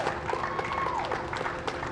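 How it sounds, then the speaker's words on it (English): A small crowd greets NASA astronauts Bob Behnken and Doug Hurley before the SpaceX Demo-2 flight with scattered clapping and cheers, a brief, moderately loud burst of applause. "Small crowd, but big cheers."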